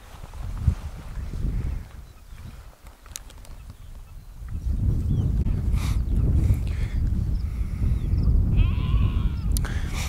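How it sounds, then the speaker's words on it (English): Sheep bleat a few times at a distance over a low, steady outdoor rumble on Dartmoor on a June evening. "Baby Shaun the sheep. And he's barring and barring and barring"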